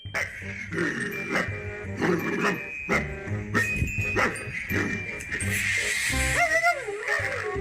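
A dog barks and yips in short repeated bursts over a noisy background of music and voices, fairly close and loud.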